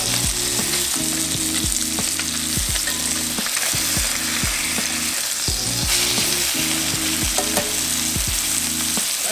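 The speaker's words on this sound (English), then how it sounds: "So I'm gonna let it cook on this side a little bit longer." Blackened salmon fillets fry loudly and evenly in a hot pan, a dense, continuous crackling sizzle with regular scraping and tapping knocks throughout.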